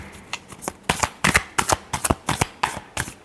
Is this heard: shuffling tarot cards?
yes